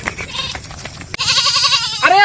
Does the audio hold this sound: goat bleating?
yes